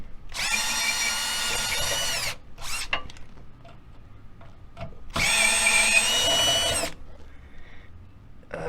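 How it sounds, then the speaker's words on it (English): A cordless drill driver whirs loudly in two long bursts a few seconds apart, removing self-tapping bolts from an RV scissor jack stabilizer, with clicks and clunks of handling in between. "we switched over to the drill driver, so just going to zip these off the rest of the way"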